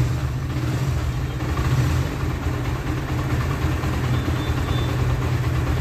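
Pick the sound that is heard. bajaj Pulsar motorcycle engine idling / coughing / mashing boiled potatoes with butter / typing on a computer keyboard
bajaj Pulsar motorcycle engine idling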